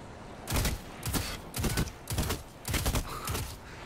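Gunfire in the Destiny 2 PC beta: six or seven short, sharp bursts spaced at a fairly even rhythm, moderately loud, with no clear talk over them.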